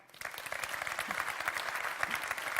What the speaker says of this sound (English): If you think yes, please clap now.